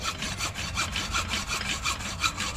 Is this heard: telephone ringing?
no